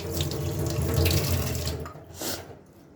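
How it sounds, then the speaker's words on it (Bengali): Hands are washed under a running kitchen tap during cooking: a loud, steady gush of water for about two seconds, then a pause and a shorter final burst. "হাতটা ধুয়ে নিই।"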